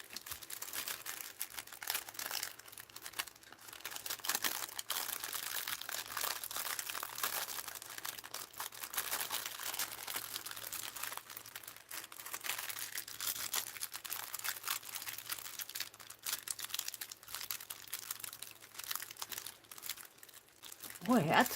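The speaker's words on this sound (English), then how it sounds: "I'd rather tear the envelope than the seal." A paper envelope being torn and crinkled open by hand, a long stretch of close, quiet ripping and rustling with scattered sharper tears and faint handling noise throughout.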